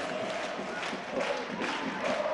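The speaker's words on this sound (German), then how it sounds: "Rhythmisches Klatschen." Football stadium crowd at a regional league match between FC Carl Zeiss Jena and Union Berlin II, a steady wash of fans with faint rhythmic clapping pulsing through the broad crowd noise.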